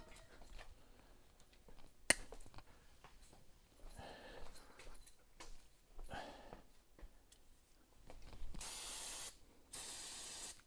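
Brake cleaner hisses from an aerosol can in a home garage in two short bursts near the end, each a close, loud spray lasting about a second, after scattered quiet clicks and handling noises.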